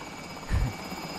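A helicopter in the video game Warzone drones steadily with a constant whirring hum, swelling briefly in a low rumble midway as it passes close.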